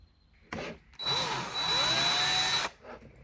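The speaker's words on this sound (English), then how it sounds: "I'm using a drill today because I'm feeling fancy." A handheld power drill whirs during repair work on a toy guitar, with a short burst followed by a longer continuous run that rises in pitch, up close and loud with no talking.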